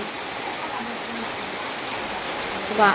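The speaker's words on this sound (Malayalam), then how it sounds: "സൗണ്ട് കേൾക്കുന്നുണ്ടോ? മഴ പെയ്യുന്നുണ്ടോ?" Steady rain hiss fills the background evenly throughout, with faint voices murmuring beneath the continuous downpour.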